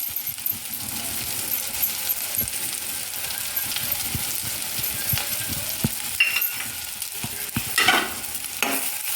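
Spices and ground peanut powder being stirred into brinjal frying in a pan, with a spoon scraping and clinking against the vessel over a steady sizzle, sporadic sharp taps, no voices.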